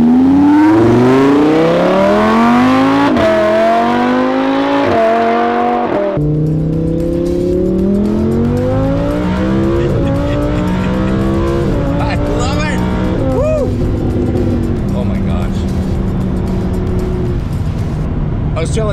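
A Lamborghini supercar accelerates hard through the gears, its engine note climbing in repeated rising sweeps with quick drops at each upshift, loud and close throughout, with people talking over it at times.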